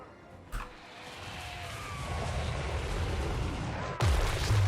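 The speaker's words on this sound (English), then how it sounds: "Dreadquake mortar hasn't been terribly accurate so far yet." In the Total War: Warhammer 3 strategy game, a Chaos Dwarf Dreadquake mortar fires with booming artillery blasts: a sharp thump early, a rumbling swell, then a heavier impact near the end.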